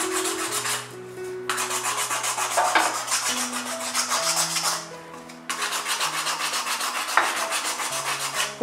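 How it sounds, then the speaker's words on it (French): Someone scrapes small fibres from plant material by hand in steady back-and-forth rasping strokes, close and clear, in several bursts separated by short pauses, with no speech. "je vais bien gratter pour enlever les petites fibres qui sont là."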